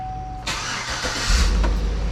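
A 2008 Chevrolet Tahoe engine cranks and catches, turning over briefly before settling into a low rumbling idle.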